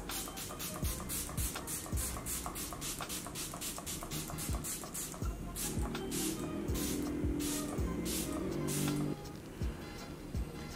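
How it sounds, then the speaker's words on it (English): Short repeated hisses of MAC Fix Plus setting spray sound in quick succession, a rhythmic series of close, bright bursts misted onto the face, with no talking. "we're gonna spray the face and really see"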